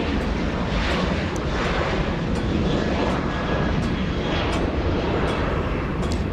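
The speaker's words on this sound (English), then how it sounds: "There goes WestJet, most likely to Calgary." A WestJet airliner takes off from a runway, a loud continuous engine roar, broadband and sustained throughout without letting up.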